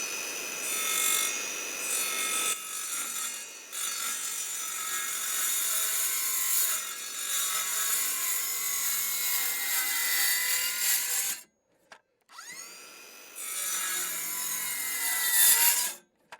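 Wood being cut with a hand saw at an off-grid building site in Africa, a steady rasping stroke rhythm close by that breaks off briefly near the end before resuming.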